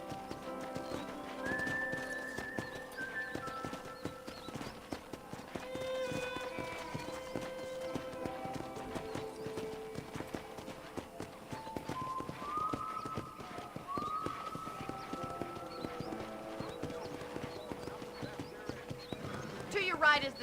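Rapid rhythmic hoofbeats of a galloping horse in Red Dead Redemption run throughout, with background music and a voice talking over them.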